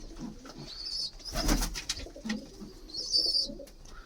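Pigeons coo softly in a low, rolling murmur that continues throughout, with faint higher chirps and a brief burst of rustling near the middle.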